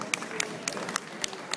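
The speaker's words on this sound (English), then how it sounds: "Nice round of applause for Cheryl." A few scattered hand claps at an outdoor car show award ceremony, sparse and fairly faint, about six distinct claps spaced across a brief moment.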